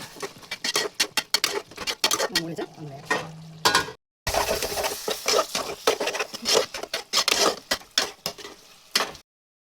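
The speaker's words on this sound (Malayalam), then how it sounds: "ഇതിനകത്ത് ഇളക്കി കൊടുക്കാം." A spoon stirs beef fry with cinnamon and cloves in a pan, with repeated scraping and clattering strokes in an uneven rhythm over a light sizzle. Close and fairly loud, it pauses briefly midway before resuming.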